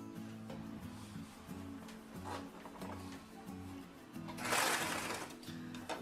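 A sewing machine stitches the side seam of a lace bodysuit, a quiet, rhythmic mechanical whir running in short repeated bursts, followed by a brief louder rustle near the end.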